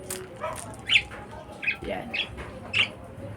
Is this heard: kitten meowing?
no